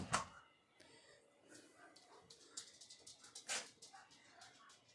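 A dog whimpers and whines in short, high-pitched bursts scattered through an indoor room, with faint movement and background noise between the cries.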